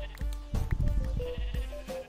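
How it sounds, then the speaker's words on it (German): A Minecraft sheep gives short, wavering bleats in the video game, several quick calls in a row, clear and close with no talk. "das Schaf hatte bestimmt Kinder"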